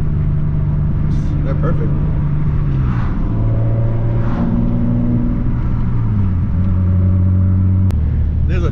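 A modified car with a swapped-in 6-speed manual gearbox downshifts on a backroad, its engine note dropping and climbing through gear changes as the revs rise and fall. The engine is loud and close, and a person speaks briefly over it.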